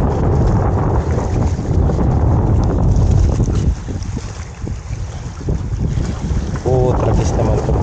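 Strong wind buffets the microphone outdoors during baitcaster fishing practice, a loud, steady low roar dipping briefly midway, alongside faint water and boat sounds.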